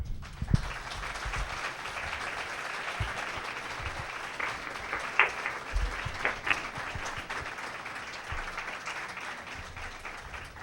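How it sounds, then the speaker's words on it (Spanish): Steady, sustained applause from an audience after a Spanish-language psychology conference talk, a dense wash of many hands clapping at even loudness throughout with a few louder claps standing out. "le ofrecemos un aplauso al doctor"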